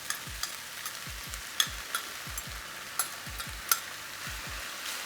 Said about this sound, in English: So I'm gonna add the TVP into the pan.